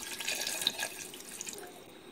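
Water pours from a tap into a cast iron pot holding chicken, a close, steady splashing and bubbling stream.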